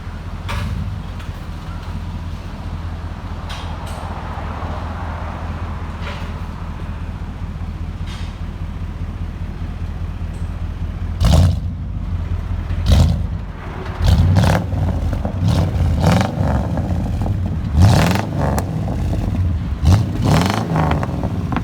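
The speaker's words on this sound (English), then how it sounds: "'99 Chevy Tahoe. True dual with glass packs." A 1999 Chevy Tahoe 5.7L V8 with true dual exhaust, 18-inch glass packs and high-flow caps idles with a steady deep rumble, then gets a series of sharp revs in the second half.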